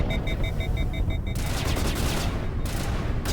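Sci-fi gunfire crackles in Mass Effect, a dense burst of rapid shots that breaks in suddenly after a faint beeping tone and continues loud and close, with a brief pause before resuming.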